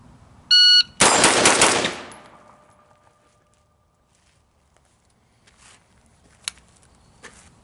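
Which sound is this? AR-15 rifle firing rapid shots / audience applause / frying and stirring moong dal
AR-15 rifle firing rapid shots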